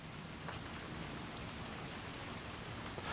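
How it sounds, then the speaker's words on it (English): Steady rain falling continuously, a dense even hiss of drops with no pauses and no voices. "Got another rainstorm."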